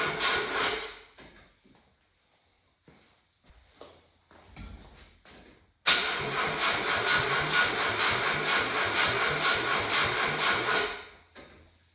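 A Subaru Sambar's small carbureted engine cranks over with a brief burst early on after fuel is poured down the carb, followed by a sustained rough, sputtering run that cuts out near the end.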